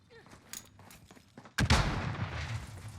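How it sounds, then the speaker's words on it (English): Gunfire from a firefight between players in the video game Warzone. Scattered faint sounds lead into a sudden loud burst of rapid shots that keeps rattling to the end. "These two guys got into a firefight."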